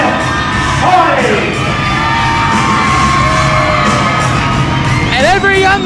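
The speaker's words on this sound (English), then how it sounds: "every young lady in Palmyra, Virginia, screams her head off for the charismatic enigma" A packed crowd at a 2006 professional wrestling match screams and cheers, with high shrieks from young women rising over a continuous loud roar and a few sharp whoops near the end.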